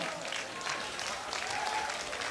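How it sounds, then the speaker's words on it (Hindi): A crowd at an open-air comic poetry recital claps in a steady, sustained burst of fairly distant applause, with faint voices murmuring beneath it. "ताली बजाओ, और युवाओं तुम सबसे ज्यादा बजाओ"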